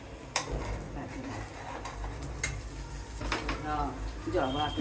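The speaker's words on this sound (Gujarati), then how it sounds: "હવે આપણે એને ઉથલાઈ દેવાનું" A South Indian pulla is flipped on a hot pan: kitchen clatter, a few sharp metal clicks and scraping, faint frying underneath, with talk in the background.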